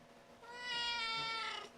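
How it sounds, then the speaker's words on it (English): A domestic cat gives one drawn-out, rising and falling meow that starts clearly, swells loud and close, and tapers off, with no voices over it. "you can hear the cat"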